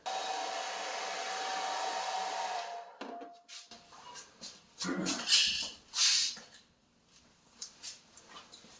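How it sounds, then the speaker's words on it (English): A hair dryer blows close and steady for about three seconds while heating the plastic third brake light of a New Edge Mustang, then shuts off, leaving scattered thumps, handling noises and a dog's faint whimpers. "because it's a hairdryer, not a heat gun, or it'll get too hot and screw up the plastic"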